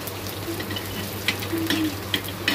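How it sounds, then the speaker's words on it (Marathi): Onion with black pepper, cloves, shahjeera and poppy seeds frying in a pan, giving a steady close sizzle with faint stirring clicks and scrapes, no voices. "छान भाजून घेऊया।"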